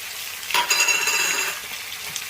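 Potatoes for aloo dum with garam masala and other spices stirred in a frying pan, a close, steady sizzle with a few scraping strokes of the spoon, no voices.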